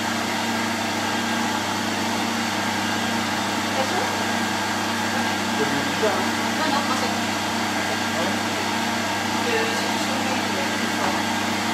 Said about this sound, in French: il est en train de terminer la meringue et ça souffle un peu pour refroidir le moteur